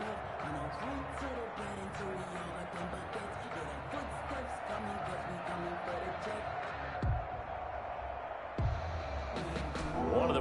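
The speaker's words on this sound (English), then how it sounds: "The crowd getting into it as we come up on a big 3rd down" Steady stadium crowd roar swells in Madden Ultimate Team football on PS4 as a big third down approaches, with a continuous wash of noise, scattered cheers and a few louder bumps near the end.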